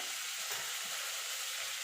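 Steady, close sizzling of chicken pieces frying in a hot pan over a low gas flame, a continuous crackling hiss with no voices.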